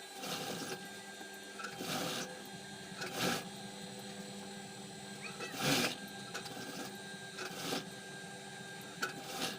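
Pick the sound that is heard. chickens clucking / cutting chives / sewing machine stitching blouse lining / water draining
sewing machine stitching blouse lining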